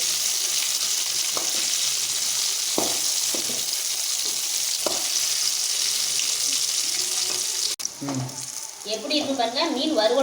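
Banana pieces prepared as a mock fish roast, village style, frying in hot oil: a steady, close crackling sizzle with a few soft knocks as pieces are turned, then a louder burst of spattering near the end.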